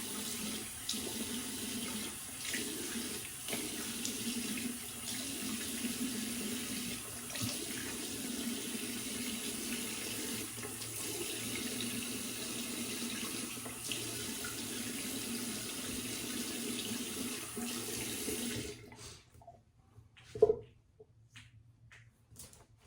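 Running tap water rinses a magnetic aluminum dual-comb razor at a sink, a steady close splashing stream for most of the stretch, then the flow stops, leaving quiet with a single knock.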